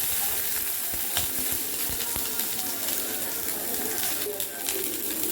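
Onions frying in oil in a wok-style pan for a mutton kulambu, a steady broadband sizzle running throughout with a few soft clicks of stirring, fairly close, with faint speech-like sounds in the background.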